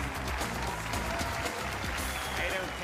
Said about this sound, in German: Hier ist der Applaus für Paige.